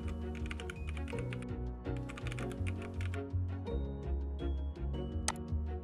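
Someone types a username on a computer keyboard during a Windows login. A quick, irregular run of light key clicks carries on throughout, quiet and close, over soft background music.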